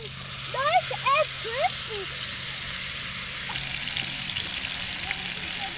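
Potatoes crisp in butter in a camping pan, a steady close sizzle running throughout, while a voice talks over the first couple of seconds.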